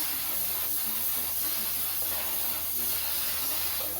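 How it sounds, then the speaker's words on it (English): Organic root stimulator olive oil sheen sprayed onto a natural hair rod set, a steady close aerosol hiss lasting several seconds with no talking. "Put a little bit of my organic root stimulator olive oil sheen on."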